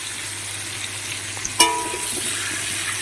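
Potato and pumpkin pieces frying in a pan, a steady soft sizzle with one sharp louder clink or crackle partway through, then the sizzle carrying on.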